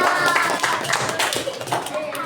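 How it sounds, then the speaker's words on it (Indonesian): A class of young schoolchildren clap together for a classmate, a brief, close, lively burst of hand claps in a classroom with children's voices chattering underneath. "Kita beri tepuk tangan dulu untuk temannya."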